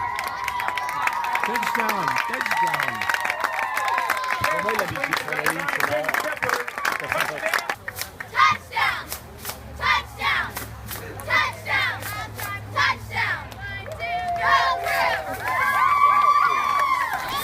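A stadium crowd at an American football game in Texas cheers, yells and claps in a roaring wave, thinning into scattered claps and shouts before swelling again, with a voice talking over it.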